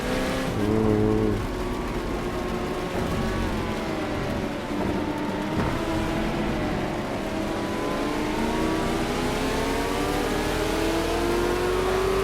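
A V8 Supercars Ford Falcon engine in the Project CARS racing game drones and rises steadily through the gears during a wet thunderstorm on the Nordschleife, with rain and rumbling mixed in throughout.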